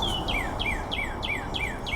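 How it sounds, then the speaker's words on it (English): Small birds chirping beside a creek on a sunny afternoon, a steady series of six or seven clear, quick descending tweets spaced evenly, heard alone over soft outdoor background noise. "Birds chirping."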